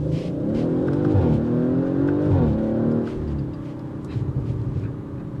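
A 2022 Audi RS5 Sportback accelerating hard in its RS2 drive mode, the engine note climbing and dropping through quick gear changes, then easing off with bursts of exhaust crackle. It is loud and close, with no talk.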